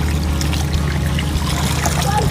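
Continuous flowing water trickles and pours steadily while clothes are washed by hand, a dense, loud, unbroken wash of water noise throughout.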